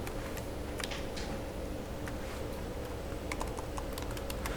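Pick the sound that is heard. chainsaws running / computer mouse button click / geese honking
computer mouse button click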